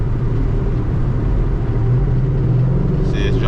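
A straight-piped 2006 Mustang GT V8 rumbles loudly as it drops down through the gears, a deep continuous exhaust drone heard from inside while cruising, with brief faint sounds near the end.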